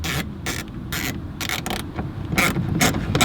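A screwdriver or power driver turns screws back into a VW MK7 GTI rear diffuser, giving repeated short whirring bursts with clicky pauses between them, close and steady.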